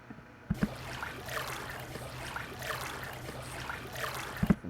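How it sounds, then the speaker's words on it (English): A water sample recorded while camping trickles and swishes in and out in gentle waves, with a few soft thuds from a beat at the start and end. "Water teetering in and out."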